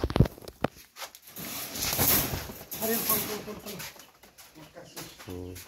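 Soft pigeon cooing rumbles close by, partly mixed with people talking, with a few sharp knocks and rustles.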